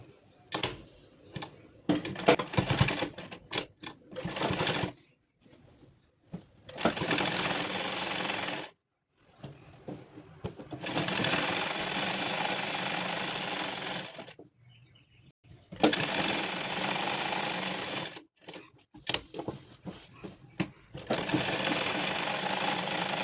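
A sewing machine stitches a kurti in repeated bursts of fast, close mechanical whirring, separated by short pauses with quiet handling.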